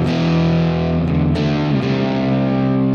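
An electric guitar played through a Neural DSP Quad Cortex on a 5150 amp model with an MD421 mic model: loud, heavily distorted sustained chords that ring out steadily with no talking.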